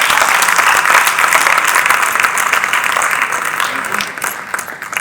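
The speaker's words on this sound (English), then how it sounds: "Can we have some claps, please?" A conference audience at a decarbonization leadership event in Jaipur breaks into sustained clapping, a full, dense round of applause that holds strong and then tapers gradually.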